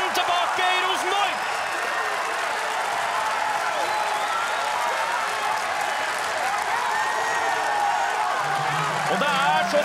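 Football fans roar and cheer as Bakenga scores for Rosenborg, a dense, steady stadium wall of crowd noise with whoops and clapping, while a commentator talks excitedly over it throughout.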